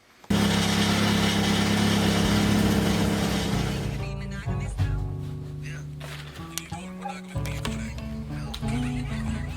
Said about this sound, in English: there's a pretty huge leak and I don't really care about the leak itself, but it sounds absolutely terrible